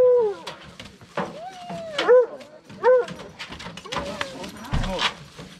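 Hunting dogs out on a wild boar hunt, heard as several excited barks and whimpering yips at close range, with people talking throughout.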